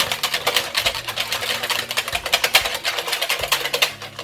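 Milk is whisked into a lasagna sauce in a pan, producing a steady, close run of quick rhythmic scraping and tapping strokes that continue throughout.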